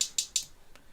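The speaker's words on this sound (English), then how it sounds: "for the verse, they don't really use hi-hats that much, and they just sound like this." Sparse hip-hop hi-hats from the verse of the beat: three crisp, evenly spaced ticks in quick succession, then a faint fourth hit.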